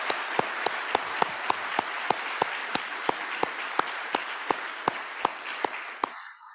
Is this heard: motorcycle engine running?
no